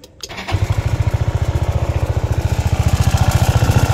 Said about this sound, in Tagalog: Yan po yung actual na tunog ng makina